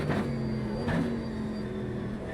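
Chevrolet Camaro GT race car engine in the racing game Automobilista 2 on the Nürburgring, a steady, loud mid-pitched drone with a brief rev swell, continuous throughout.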